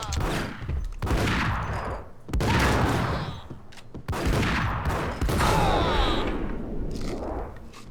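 Gunfire in the Max Payne video game, loud bursts of shots and impacts recurring throughout amid dense action noise, with no talking.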